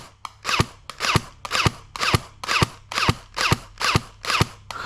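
Airsoft gun firing with two magazines loaded: nine or so crisp, snappy shots at an even pace about half a second apart, close and distinct with a brief mechanical rattle after each.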